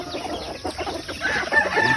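Chickens cluck and squawk in a brief, busy burst of overlapping calls, fairly close and moderately loud against a rough outdoor background.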